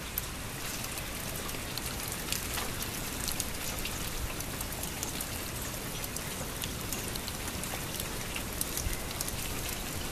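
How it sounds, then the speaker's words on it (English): Steady rain falls outdoors around puddles, a dense, even hiss of drops hitting surfaces that continues unbroken and fairly close throughout, with no voices. "It's raining right now."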